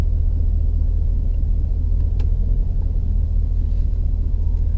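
Idling engine of a Chevy/GMC truck running rough, shaking with jumping RPMs: a loud, steady low rumble heard from the cab with faint ticks and rattles over it, no voices.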